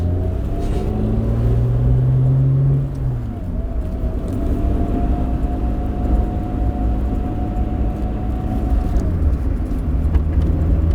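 A V6 Mazda Miata with 230 hp drives along, its engine note dropping sharply at a gear change early on, then settling into a steady hum with road rumble, close and continuous.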